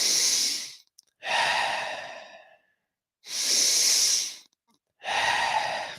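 Deep breaths during a guided breathwork exercise: four long, loud, close inhales and exhales with airy hiss, separated by short pauses, no talking.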